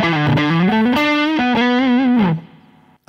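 Electric guitar run through a throaty boost pedal effect in ToneStack within Loopy Pro, a loud, gritty sustained lead line with bends and slides that stops abruptly, followed by a brief quiet tail.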